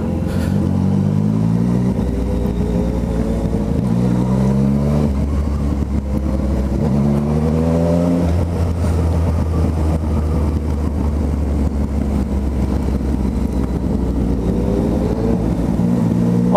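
A Yamaha MT-09 motorcycle engine roars up close, revving up through the gears in repeated rising sweeps, loud and continuous throughout.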